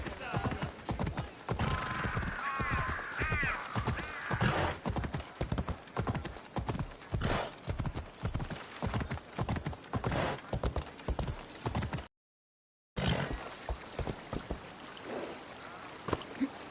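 Horse hooves gallop in Assassin's Creed Odyssey as Phobos is ridden through Lakonia: a fast, steady clip-clop of close hoofbeats running almost without pause, with a whinny and other game sounds layered in and a short silent break near the end.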